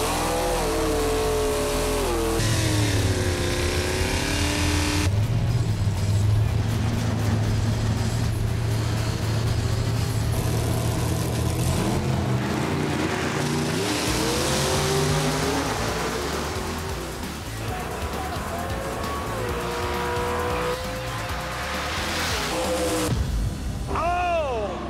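Drag race cars launch and accelerate hard down the strip, engines roaring and rising in pitch as they pass, with loud revving throughout and some commentary voices under the engine noise.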